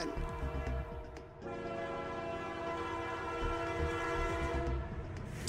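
A video game train rumbles past with a sustained horn blast over the steady clatter of rail cars, loud and close for the whole stretch, with no voices.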